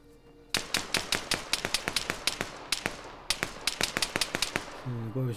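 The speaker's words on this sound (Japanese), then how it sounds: "すごい後ろから銃声聞こえるけど" Rapid bursts of gunfire in the video game ARMA 3, dozens of sharp cracks in quick irregular volleys, loud and close, with a brief pause midway.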